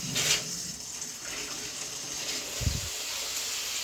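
Water runs from a shower after a leaking handle is fixed, giving a soft, steady rush with a few faint knocks and splashes. No one speaks.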